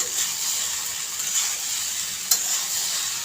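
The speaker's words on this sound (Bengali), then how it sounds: "এখন এই মশলার সাথে পাস্তাগুলিকে আরও 2 থেকে 3 মিনিটের মতো ভেজে নেব।" Boiled pasta tossed with masala sizzles steadily in a hot pan on a home stove, with soft scraping strokes of a spatula repeating every second or so and one sharper clink near the end.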